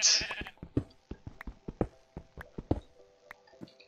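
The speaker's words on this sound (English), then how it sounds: "Get out of it, sheepy. Get out of it." Sheep in Minecraft bleat repeatedly in a quick series of short, clear calls with small pauses between them, close and loud at first and then softer, with no talking over them.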